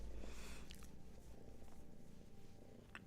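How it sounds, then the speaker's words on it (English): Soft, steady purring of a cat lying on a lap, a continuous low rumble with faint rustles on top. "you can probably hear Gertie purring on my lap"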